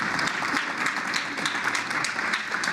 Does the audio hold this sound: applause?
yes